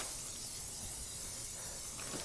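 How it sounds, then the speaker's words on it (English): Cooking spray is sprayed liberally into a bundt pan, giving a soft, steady hiss that runs for about two seconds, quiet and close, with no talking. "you liberally spray"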